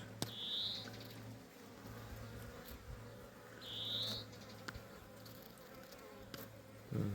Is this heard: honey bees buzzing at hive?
yes